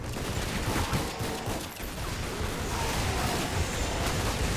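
Dense, noisy volleys of game gunfire from Lara Croft and the Guardian of Light, crackling continuously at close range with a brief lull midway, no talk over it.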